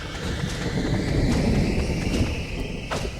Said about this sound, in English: It seriously sounds like it's gonna be like a thunderstorm